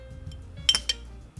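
Spoon clinking against a glass jar of overnight oats, two or three quick bright taps close by, over quiet background.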